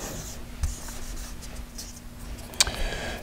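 Dry-erase marker or eraser rubbing across a classroom whiteboard to wipe off numbers, with soft scrubbing strokes and a couple of brief taps, fairly quiet with a steady background hum.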